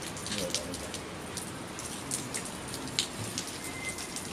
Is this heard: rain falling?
yes